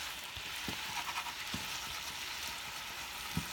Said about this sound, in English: I don't put any oil or anything in my pan when I'm doing meat